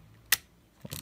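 A 1958 Minolta V2 mechanical film camera fires its shutter: one sharp, crisp metallic click, then a second brief mechanical rattle near the end, close and quiet in a still room.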